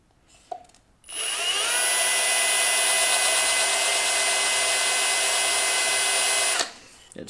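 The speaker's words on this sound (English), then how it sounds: "So we're going to drill a hole about there." A power drill with a 5 mm bit bores a hole through a soft plastic headlight housing for a VF Commodore, giving a steady, loud high-pitched whine that runs unbroken for about five and a half seconds before stopping.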